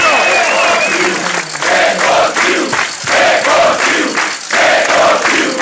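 A large, dense crowd welcoming home the Hungarian U20 football team applauds and cheers loudly and continuously, in waves of clapping and shouting throughout.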